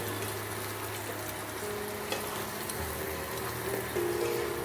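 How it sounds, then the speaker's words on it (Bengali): Onion, ginger, garlic and dried red chillies frying in a pan for dragon chicken, a moderate steady sizzle with a low hum and occasional faint stirring clicks. "এই পেঁয়াজ আর আদা রসুনগুলো আমি কিন্তু ভালো করে ভেজে নিচ্ছি।"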